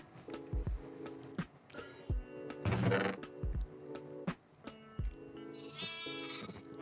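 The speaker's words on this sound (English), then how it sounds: "I sheared the sheep." Sheep bleat repeatedly in Minecraft in short, wavering calls amid soft thuds and clicks, with a brief scraping burst midway as they are sheared.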